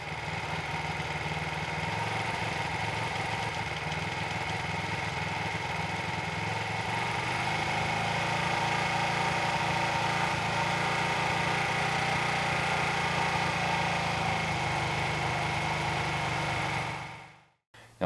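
A Honda 125 CB Twin motorcycle engine idles during carburetor adjustment, a steady, moderately loud buzzing hum that holds evenly and then cuts out abruptly near the end, with no talking.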